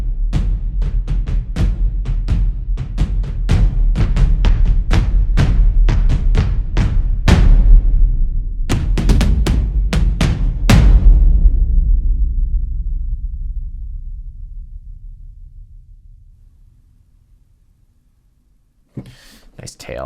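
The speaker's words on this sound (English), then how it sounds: "we have Master Sessions from Heavyocity, their low drums. Sounds like this." Heavyocity Master Sessions low drums from a cinematic percussion sample library pound out a fast, loud rhythmic pattern of deep hits for about twelve seconds, then a long reverberant tail dies away to near silence before a brief sound at the end.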